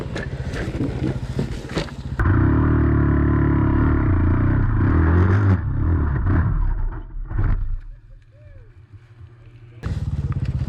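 Dirt bike engine, a Yamaha WR250R or KTM, revs loudly and steadily while being worked down a steep trail, with clattering and scraping, a brief drop toward idle, then a renewed roar.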